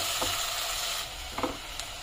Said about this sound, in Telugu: కారు వెల్లుల్లి, ఉల్లికాడలు కూడా వేసుకుని ఫ్రై చేసుకోవాలి